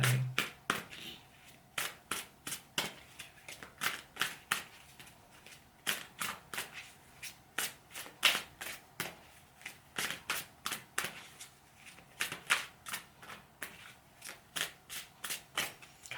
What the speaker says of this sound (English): Cards are just not wanting to come out.